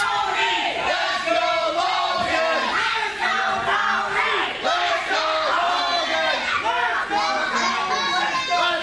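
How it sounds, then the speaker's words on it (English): Wrestling crowd at an AWE Battle of the Brands show chanting loudly, rhythmic dueling chants and shouts filling the arena continuously with a dense, roaring texture. "And dueling chants from the fans."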